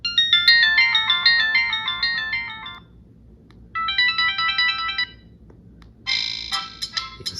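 Electronic ringtones from a Virgin Mobile K9 or K10 Royale phone, several short bright melodic phrases of quick stepping beeps, separated by gaps, crisp and close with no talking.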